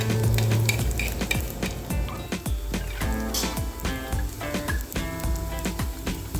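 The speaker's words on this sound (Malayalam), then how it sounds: "ചെറിയ ഉള്ളിയും കൂടി ഇട്ടതിന് ശേഷം നന്നായിട്ട് ഇളക്കി ഒന്ന് വഴറ്റിയെടുക്കാം" Chopped shallots sautéing in hot oil in a pan while being stirred, a soft sizzle under repeated scraping and clinking strokes of a spoon against the pan in an irregular rhythm.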